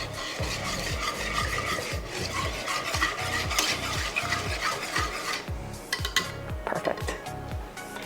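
A spoon scrapes the bottom and sides of a dish, stirring sweetened condensed milk into a homemade ice cream mixture in steady repeated strokes, close up, with some clinking toward the end.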